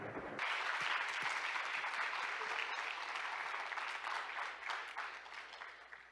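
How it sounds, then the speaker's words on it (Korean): Sustained audience applause at an international logistics association congress in Busan, congratulating four regional young logistics professional winners, steady dense clapping filling the hall from start to finish. "저와 함께 네 분 지역 우승자 여러분께 축하의 박수 보내주시기 바랍니다."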